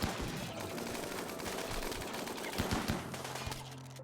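Colonists in RimWorld shoot at a bug, producing faint, quick pops of gunfire in irregular bursts over a low background hum, fairly quiet and distant.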